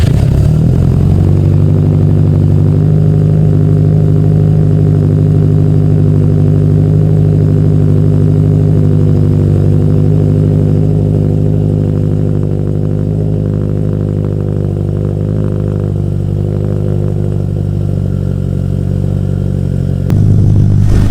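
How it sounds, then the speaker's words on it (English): A modified Subaru STI with a roughly 500 wheel-horsepower engine idles loud and close on its first cold start, a steady rumbling, slightly lumpy drone held for about twenty seconds before a brief blip near the end. "So let's get this first startup, technically first cold startup,"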